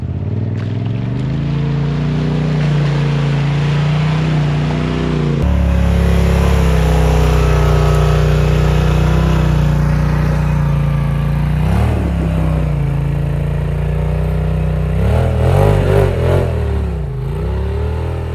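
A Polaris RZR Turbo R off-road vehicle on 37-inch tires runs close and loud, its engine droning steadily, then climbing and revving in uneven surges while crawling, with no voices.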